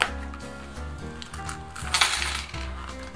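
Coins clink and jingle as they drop into the coin purse of a short wallet, a busy run of close metallic chinks and rattles over a few seconds with no speech.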